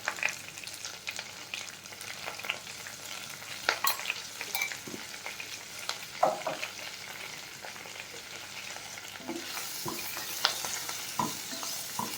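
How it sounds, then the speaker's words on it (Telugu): Onions frying in peanut oil with turmeric for a pumpkin stew, a steady close sizzle broken by frequent scraping and clattering stir strokes against the pan. "ఆనియన్స్ కూడా కొంచెం ఫ్రై అవుతున్నాయి"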